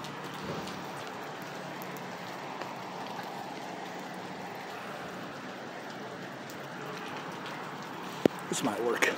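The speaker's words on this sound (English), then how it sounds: "Oh, watch out, it's raining." Rain falls steadily in a broad wash of patter, with a few brief knocks and rustles near the end; a voice is faintly present.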